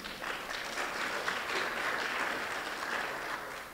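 Audience applause at a student design competition awards ceremony, a steady unbroken clapping that holds for several seconds at moderate distance with no voices over it.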